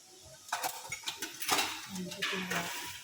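A metal spatula scrapes and clanks through dough in a pan of overly hot oil while making Thai khanom pan khlip, giving irregular metallic knocks over a steady sizzling hiss.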